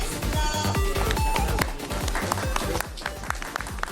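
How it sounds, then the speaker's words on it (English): A crowd at a StarCraft 2 tournament breaks into applause, dense clapping and cheering filling the hall, then thinning into scattered claps with loud sharp thumps over it. "And the crowd goes wild."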